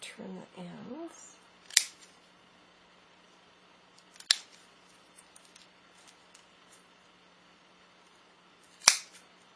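Scissors trim the strand ends of a woven six-strand star basket ornament, giving three crisp, separate snips spaced a few seconds apart over a quiet background. A brief voice is heard at the start.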